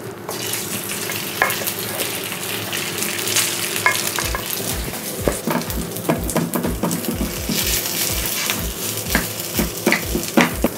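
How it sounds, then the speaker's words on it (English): Day-old cooked Thai rice sizzles steadily in a hot pan while a utensil scrapes and stirs it in regular, close strokes. "let's get the rice into the pan"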